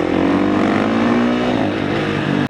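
A Yamaha YZ450 dirt bike roars loud and close at a lot, its engine holding a high, strained rev before cutting off abruptly.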